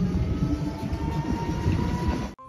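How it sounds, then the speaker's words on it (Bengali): A passenger train rumbles past at a rural Bengal station near Purbasthali, a loud, continuous rolling roar with clattering wheels that cuts off abruptly at the end, with no voices. "7:13 আমাদের ট্রেন।"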